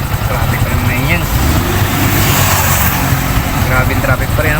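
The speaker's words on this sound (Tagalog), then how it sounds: "Grabing traffic dito sa may ano, sa bridge." Cars and motorcycles sit idling in congested traffic on a bridge in Binmaley, Pangasinan, their engines forming a loud, continuous nearby rumble while people talk in the background.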